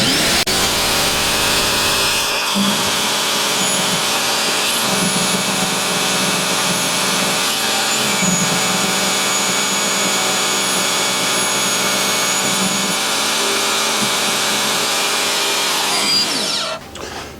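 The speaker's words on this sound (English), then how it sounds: "portable bandsaw hooked up to my swag table, which has been really nice to have" Portable bandsaw mounted on a table cutting metal freehand with cutting oil, a steady whine and grinding hum running for about fourteen seconds before spinning down, close and loud with no talking.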